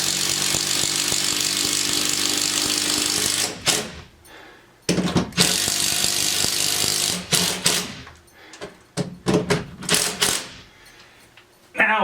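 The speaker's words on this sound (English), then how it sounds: "we can swap out to the impact with the socket head on it" An impact driver with a socket drives a bolt for a Mount-It full motion TV wall mount, giving a loud continuous mechanical hammering rattle for several seconds, then several shorter bursts broken by pauses.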